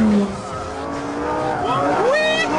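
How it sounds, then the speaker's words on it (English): A Lamborghini power slides on a race track, tires squealing and skidding as the engine note rises sharply toward the end, with a voice audible over the car. "You went power slide mode again."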